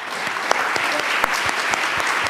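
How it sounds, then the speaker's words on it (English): An audience at a panel event applauds the panelists, a dense steady clatter of many hands clapping throughout, fairly loud and close, with a few sharper individual claps standing out. "join me in a round of applause for our panelists"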